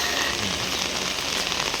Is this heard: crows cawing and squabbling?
no